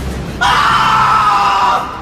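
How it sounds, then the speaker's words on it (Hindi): A man lets out a loud, sustained scream of pain and fright as he jolts awake in a horror story. The cry lasts just over a second, stands alone and ends abruptly. "एक बार फिर चीख कर उठा"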